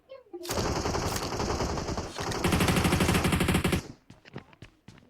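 Gunfire from a shotgun in PUBG Mobile rings out in loud, sustained rapid bursts for several seconds, then breaks into a few separate sharp shots.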